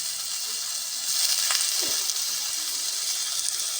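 Cauliflower dropped into a pan of cooked-down spiced masala, giving a steady bright sizzle of frying with a louder burst partway through, close and continuous, no voices.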